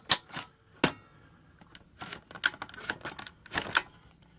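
A Corona Model 3 foldable typewriter, freshly cleaned, types in scattered bursts of sharp key strikes and clacks, some single and some clustered, close up and fairly quiet with no voices.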